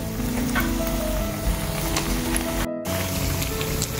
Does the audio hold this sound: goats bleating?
no